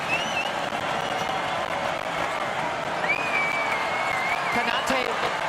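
Crowd in a college basketball arena at a Gonzaga versus UC Irvine tournament game, a steady roar of cheering and applause sustained throughout, with a commentator talking over it and a sharp whistle-like spike near the end.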